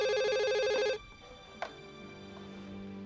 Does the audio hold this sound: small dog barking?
no